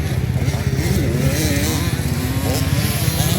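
Small 65cc racing motorcycles scream together through a final heat at a local race, a dense, continuous high-revving buzz of several engines held loud and steady throughout.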